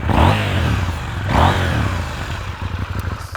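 A KTM Duke 790 motorcycle with an uneven-firing twin engine runs close by, with two quick throttle blips rising and falling over a lumpy, throbbing idle and no talking.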